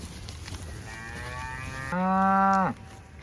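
Cattle in a small paddock bellow in protest, a fainter moo first, then one loud, long, close moo that cuts off sharply, with no talking over it.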